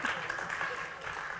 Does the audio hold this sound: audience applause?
yes